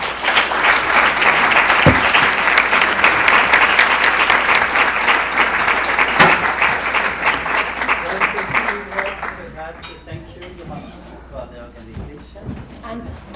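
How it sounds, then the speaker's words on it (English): Audience applause at a closing ceremony, loud sustained clapping from a crowd for about nine seconds before thinning into scattered claps, with a voice speaking over the fading end. "I think clapping hands again for Nora would be the right moment now"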